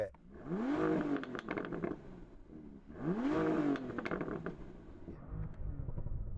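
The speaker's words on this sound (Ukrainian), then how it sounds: "Деніел, натисни на акцевратор" A sports car engine revs hard twice during a sound check, each rise climbing in pitch and falling away, followed by a rougher idling burble with crackles, loud and close with no talking.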